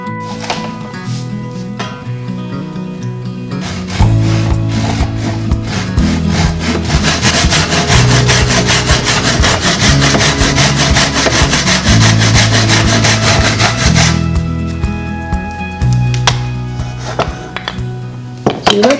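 A hand saw cuts down the wooden stem of a dinghy to length, a close series of rhythmic rasping strokes that starts after a few quieter seconds and stops near the end.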